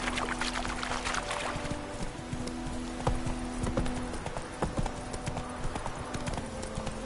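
Roach, Geralt's horse in the video game The Witcher 3: Wild Hunt, gallops with a quick, steady run of hoof clops over a low ambient bed, close and continuous.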